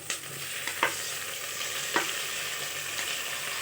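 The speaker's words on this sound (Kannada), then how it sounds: "ಈರುಳ್ಳಿ ಫ್ರೈ ಆಗ್ತಿದೆ." Chopped onions frying in a pan for vegetable sambar, a steady close sizzle with a few sharp stirring scrapes, no voices.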